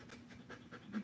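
A Bernese mountain dog pants rapidly with a wet, sloppy tongue, close and fairly soft, in a steady rhythm of quick breaths.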